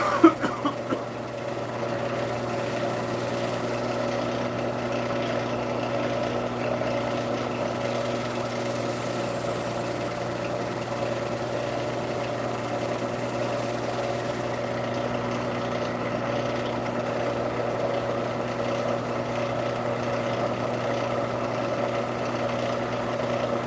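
A wood lathe spins a large, thin-walled bowl at about 1,400 RPM, giving off a steady mechanical hum with constant tonal drone and faint background noise, no voices.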